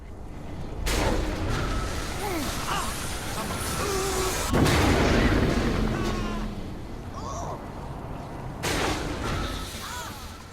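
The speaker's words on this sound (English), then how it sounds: "Another one of our fun new weapons that we're introducing is the Black Hole Launcher." The Black Hole Launcher in Saints Row 4 fires with a few sharp, heavy whooshing bursts amid dense game chaos and rumbling ambience, while someone talks over the action.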